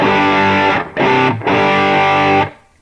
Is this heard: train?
no